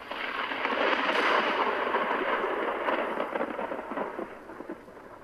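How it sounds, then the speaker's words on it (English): Distant thunder heard from a laboratory rolls as a broad, muffled rumble that swells, holds and slowly fades, with a faint rain-like hiss and no voices. "The silence in the laboratory was creepy, except for the few punctuations of distant thunder."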